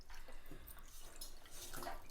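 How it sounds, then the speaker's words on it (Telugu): Water is poured into a pot of cabbage dal, giving a steady, close splashing and trickling that runs continuously for about two seconds with no talk over it. "నేనైతే కొద్దిగా వేస్తున్నాను వాటర్ కూడా"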